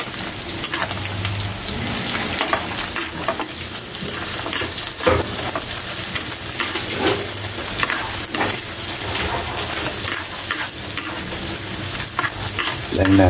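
Onion and garlic frying in a pan for a shrimp dish, a steady loud sizzle like rain throughout, with intermittent scrapes and knocks of a utensil stirring, no talking.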